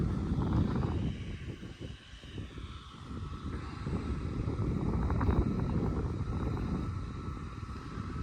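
An MTZ-892.2 tractor pulls a PD-2.5 disc harrow through a sunflower field, giving a steady low engine drone with clanking and rushing wind noise throughout, heard from close by.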